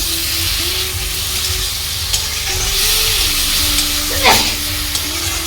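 Koi fish masala sizzles and fries steadily in a pan while being stirred, a continuous close hiss with occasional scraping and a brief sharper spatter near the end.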